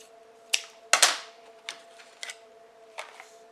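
Scissors cut through ribbon being made into a bow: a few sharp, close snips and clicks spaced irregularly in a quiet room over a faint steady hum.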